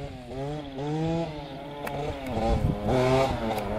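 A Honda CR250 two-stroke dirt bike engine revs hard during wheelies, its pitch rising and falling in quick surges, close and loud.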